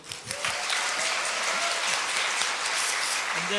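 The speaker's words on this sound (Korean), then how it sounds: "네, 박수 한번." Sustained applause fills a worship band seminar room, a dense, steady wash of clapping from the attendees lasting the whole stretch at an even loudness.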